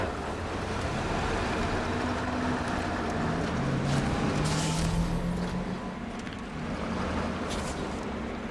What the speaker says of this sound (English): Shut down the engine when we get there